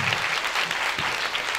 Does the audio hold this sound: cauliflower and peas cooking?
no